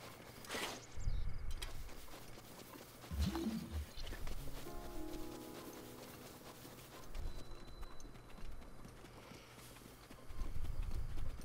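Horse hooves in Zelda Breath of the Wild, soft clip-clop steps in short bursts separated by quieter stretches over a low ambient bed, fairly faint overall.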